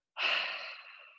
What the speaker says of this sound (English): Inhale, nose. Exhale, mouth.